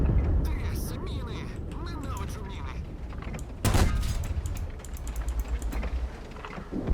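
Video game battle gunfire with artillery: crackling shots and rapid bursts, then one loud blast midway, followed by more sporadic firing over a low rumbling background.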